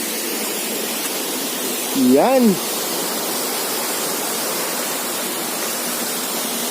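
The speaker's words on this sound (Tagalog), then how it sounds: "yung maririnig mo talaga guys, yung mga falls lang, yung pag-agos ng tubig" A waterfall and flowing river water roar as a steady, loud, broad rush through the whole stretch, with a brief spoken word partway through.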